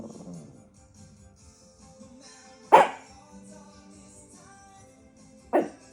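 A Chihuahua indoors gives two sharp, loud single barks a few seconds apart, with quiet low rustling between them.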